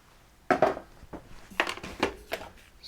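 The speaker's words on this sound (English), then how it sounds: "what I'm going to do is mix in the ground nuts" A spatula works ground nuts into meringue in a mixing bowl for Swiss Zimtsterne cookie dough, giving a handful of distinct scraping, knocking strokes against the bowl at an uneven pace, fairly close and without talk.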